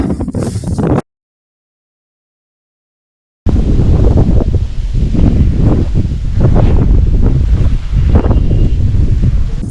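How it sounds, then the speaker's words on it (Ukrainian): Strong wind sweeps a lake shore where fishing is under way, giving loud, gusty microphone rumble that cuts out briefly and then returns as steady buffeting. "в мене тут сильніший вітер"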